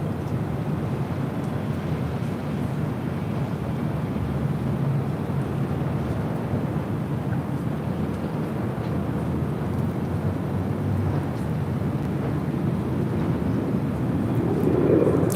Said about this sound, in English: cleared for takeoff 24 left, west of 1511. Here on the north side, WestJet Flight 1511 heading to Calgary in a 737-800.